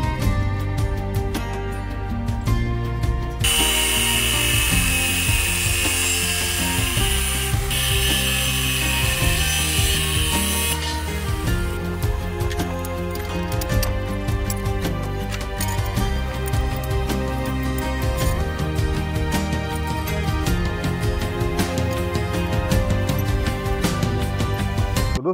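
Galvanized iron pipe being cut for a frame, giving a continuous harsh grinding and rasping cut with a bright, loud burst partway through, then steady metallic cutting.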